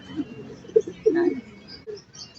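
A racing pigeon, a hen bird, arriving at its loft gives a few close, soft low coos among quiet rustling, with brief murmurs of voices nearby.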